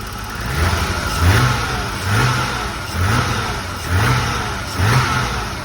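A car engine fitted with a used air mass meter and tuned for a rich fuel mixture runs close by with a steady hum, rising in a regular surge about once every second.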